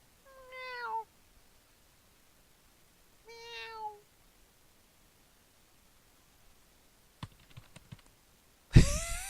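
A cat meows twice in a quiet room, two short clear calls a few seconds apart, followed by faint clicks and a sudden burst of noise.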